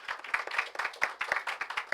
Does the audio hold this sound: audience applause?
yes